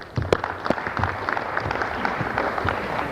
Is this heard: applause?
yes